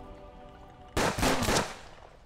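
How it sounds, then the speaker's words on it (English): Revolver fanning in the video game Hard West: a quick burst of three loud, closely spaced gunshots after a quiet lead-in, the reports running together with a short ringing tail. "Fanning. Fire 3 shots."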